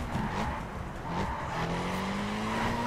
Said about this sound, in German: Wie soll ich hier driften?